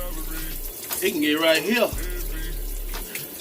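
Water is poured into a bottle used for washing dreadlocks, giving a gurgling, splashing fill that swells and then stops, close by, while someone talks over it.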